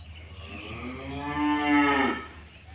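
A dairy cow in a farm shed gives a single long, loud, close moo that rises and swells before trailing off, with no voices over it.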